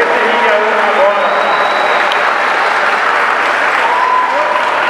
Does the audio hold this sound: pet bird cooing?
no